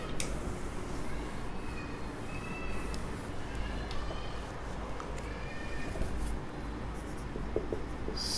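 Marker or chalk scratching and tapping on a board during a math lecture, a soft continuous writing sound with brief strokes and squeaks, close and fairly quiet over low room rumble, with no speech in between.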